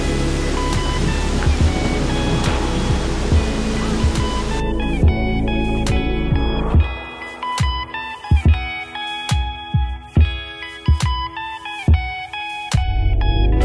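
From behind a waterfall, the water makes a loud, steady rushing roar that fills the whole clip, then grows more uneven and pulsing toward the end.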